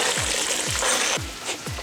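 Onions frying in a pan of hot oil and melted butter, a continuous dense sizzle with four evenly spaced low thumps beneath it, close and fairly loud.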